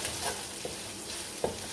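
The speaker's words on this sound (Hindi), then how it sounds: "इन सब चीज़ों को हम अच्छी तरह से भून लेंगे।" Garlic-ginger paste and chopped green chillies fry in a pan for dal chana, a soft, steady sizzle with a few faint stirring clicks close by.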